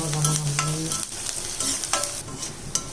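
Crushed garlic and onion sauté in a hot pan for a Tamil prawn fry, with a steady close sizzle and occasional scraping stirs; no one speaks.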